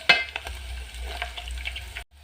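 Pieces of meat fry until brown in a pan for a spaghetti dish, giving a close, steady sizzle broken by a few light stirring clicks, with no talking.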